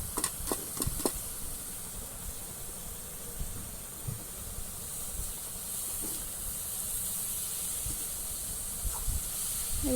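Foraged wild mushrooms dropped into a hot pan, setting off a steady hissing sizzle that carries on evenly at moderate level, with a few sharp knocks and clatters near the start.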